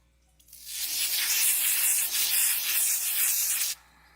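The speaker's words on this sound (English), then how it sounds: "Let's put some spot remover on it." A ChemDry spot remover aerosol sprays onto a Bloody Mary stain in carpet, a single steady hiss lasting about three seconds and then cutting off sharply, close and fairly loud with no talking.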